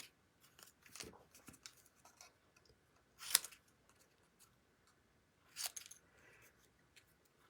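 Scissors snip letters out of paper for an Easter treat holder, giving several faint, sharp cuts spread across the quiet stretch, with two crisper snips standing out.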